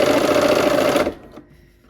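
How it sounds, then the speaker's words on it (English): A sewing machine stitches a Christmas tree quilt block in a fast, steady whirring run for about a second, then stops abruptly, leaving faint rustling. "we are going to sew on that line"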